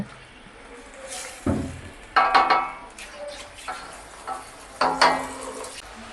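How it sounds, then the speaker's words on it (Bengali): Spice paste for a Bangladeshi potato chicken curry is sautéed and stirred in a pot. Intermittent scraping bursts of a spoon against metal ring out over a low, quiet sizzle. "আমাদের মশলাটা কিন্তু কষানো হয়ে গেছে"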